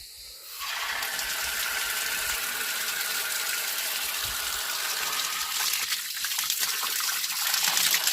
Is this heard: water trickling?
yes